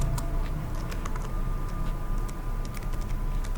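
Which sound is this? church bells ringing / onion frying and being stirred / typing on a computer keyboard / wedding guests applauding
typing on a computer keyboard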